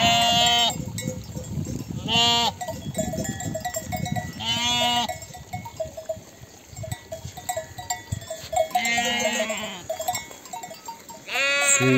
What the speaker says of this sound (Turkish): Bunlar bu sene kuzumuz.